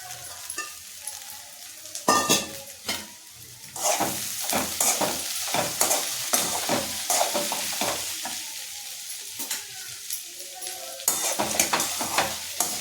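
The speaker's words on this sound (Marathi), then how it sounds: "पोहे छान त्याची मिक्स करायचे" Washed poha (flattened rice) is stirred in a sizzling pan, with a utensil scraping and turning the flakes in quick, irregular strokes, close and fairly loud throughout.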